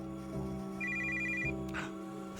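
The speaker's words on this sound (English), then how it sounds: "The phone is ringing." A telephone rings in the horror game The Well Speaks To Me, a repeating electronic trill sounding clearly over a steady low background drone, with a brief soft clatter near the end.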